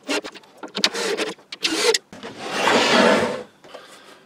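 The top part of a wooden French cleat wall is screwed on, with rough scraping and knocking handling sounds followed by a longer, steady driving whirr, all close by.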